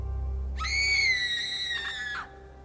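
A woman screams, raising bloodied hands to her face in an Estonian dramatized horror audiobook. It is a single high, sustained, piercing scream of about 1.7 seconds that wavers slightly and breaks off at the end, over a low background rumble.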